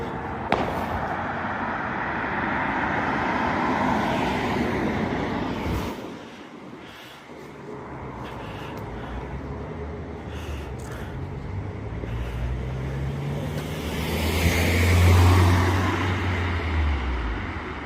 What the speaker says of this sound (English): got a double-decker Metroline coming in from somewhere